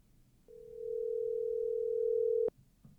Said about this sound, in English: We're going to voice call Ryan.